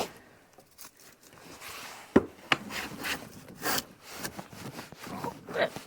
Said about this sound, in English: As we get down, the shavings will get bigger.